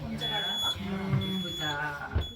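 Electronic beeping from a door alarm at a castle funicular in Verona sounds as a steady high tone that sets in repeatedly, near and moderately loud, with people talking over it.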